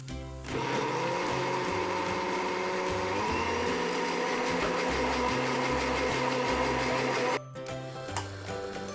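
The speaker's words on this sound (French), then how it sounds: "vous allez prendre 5 cuillères de farine et 300 g d'eau et les mixer ensemble" A kitchen blender mixes flour and water for harira, its loud, steady motor whir starting after a moment, running continuously for about seven seconds, then cutting off.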